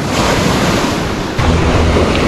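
Sea waves breaking on big rocks along the shore of Ios, Greece, a loud close continuous surf roar with a fresh crash surging in partway through, no talking.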